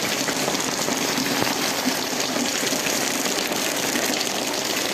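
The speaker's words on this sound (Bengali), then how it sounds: "কখন এই বৃষ্টি থামবে" Heavy monsoon rain pours down in an unbroken wash of hissing, splashing drops, loud and uniform throughout, with no talk over it.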